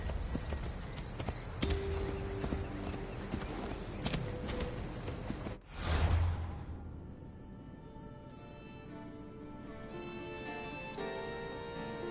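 Horse hooves clip-clop steadily in a video game, a moderately loud rhythmic trot that runs for several seconds, pauses briefly around a soft whoosh, then continues more faintly with game ambience behind.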